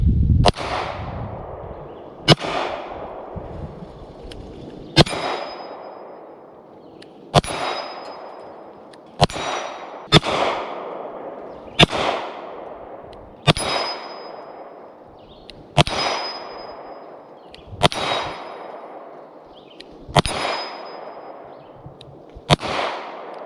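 A troublesome gun is test-fired outdoors, with about ten loud sharp shots spaced a couple of seconds apart, each cracking hard and ringing off into a decaying tail, no talking between them.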